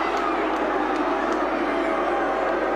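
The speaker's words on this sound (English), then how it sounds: "listen to the crowd. The crowd are fuming." Football stadium crowd at a Manchester United Legends v Southampton match, angry after a refused penalty, making a dense, continuous roar that holds steady and loud for the whole stretch.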